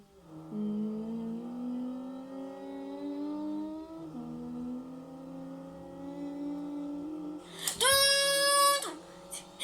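Engine revving in the rally racing game Rally Fury, a steady rising drone with a gear shift near four seconds, then a sharp high-pitched rev burst near the end, with no talk.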